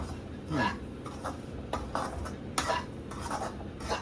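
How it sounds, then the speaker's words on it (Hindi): Semolina (rava) dry-roasting in a pan for upma, with quiet gritty scraping and stirring and a few light clinks of a spoon against the pan, close and fairly soft. "अब इसमें डालेंगे हम लोग सूजी या रवा, जो भी समझ आए। इसको भुनाई करनी है।"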